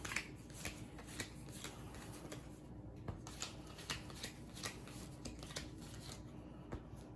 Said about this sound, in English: Next, we can shuffle up all these cards and give each player 6